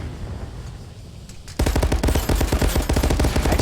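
Heavy automatic gunfire in a competitive shooter video game quarterfinal match, starting after a quiet second and a half then erupting into loud, dense rapid bursts of shots that continue to the end.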